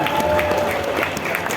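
A live audience at an indoor stage event breaks into applause, a dense, even burst of clapping that fills the short stretch, with a faint voice underneath.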